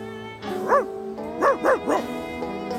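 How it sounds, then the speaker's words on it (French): Corneil, a cartoon dog, gives a handful of short yapping barks in two bursts, one single and then three close together, over a sustained tonal background, with no speech. "Ah, cousine Jenny, cousin Herbie, je vous présente Corneille, le chien de mes voisins."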